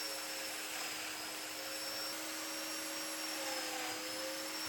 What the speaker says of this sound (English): Next, I routed a round over on all the edges